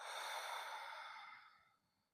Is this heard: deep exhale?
yes